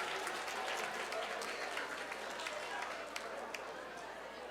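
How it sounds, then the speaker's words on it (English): Audience applause at a youth leadership council summit, a steady wash of clapping from a crowd, fairly faint and distant, holding evenly and tapering slightly toward the end. "Let's give ourselves a round of applause."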